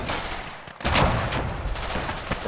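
Battlefield gunfire in the Gates of Hell Ostfront war game, with dense, crackling shots and a louder blast amid constant noisy combat ambience.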